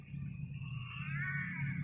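The monster in the Ice Scream horror game lets out a low, drawn-out roar with a wavering tonal edge, faint and heard on its own for a couple of seconds.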